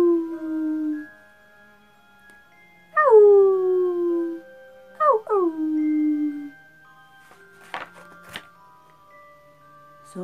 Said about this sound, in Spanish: la luna deja ver a trasluz sombras y figuras pasar que hacen dar a los perros aullidos despavoridos